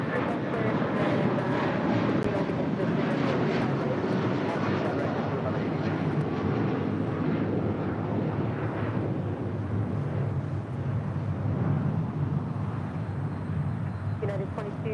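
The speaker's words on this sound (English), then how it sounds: "Also, China Airlines Cargo Flight 5224 heading to Miami, Florida. It's a 777." China Airlines Cargo Boeing 777 departing LAX, a sustained deep engine roar that stays loud and steady from start to finish, with talk over it.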